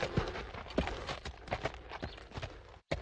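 Cartoon horse hooves clip-clop in a quick, uneven rhythm of close, crisp knocks, stopping briefly near the end before one last step.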